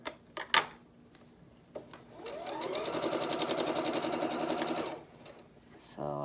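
A home sewing machine stitches a quilt block's seam allowance in one steady run of about three seconds, rapid and close, with a few handling clicks and knocks before it starts.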